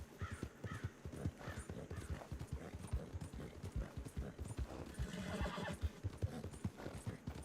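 Horse in the video game Red Dead Redemption 2 trotting with steady rhythmic clip-clop hoofbeats and neighing, fairly close, and a faint voice is heard over it.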